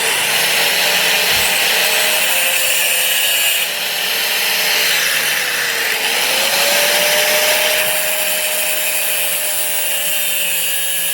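A power tool trims a metal truck hitch part for a Chevy Silverado 2500HD, running as a loud, steady whine that stays continuous throughout and holds a slight pitch dip near the middle.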